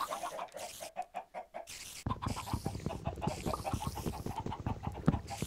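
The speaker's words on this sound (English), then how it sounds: "I can still hear my chickens from up there." Quiet chicken clucking in a video game, scratchy, choppy bursts, game-like and steady over a low background.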